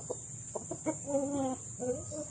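Japanese Shamo chickens of the DBC and Dumpo lines clucking and calling in short bursts, with a longer drawn-out call in the middle, close by over steady high background noise.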